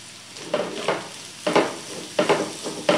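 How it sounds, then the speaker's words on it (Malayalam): Prawn roast with coconut fries in a pan with a steady sizzle, and spoon strokes stirring it land in four or five distinct bursts, close and fairly loud, with no talking. "ഇതൊന്ന് കൂട്ടി ഇളക്കി ഒന്ന് നല്ലവണ്ണം ഫ്രൈ ആവട്ടെ"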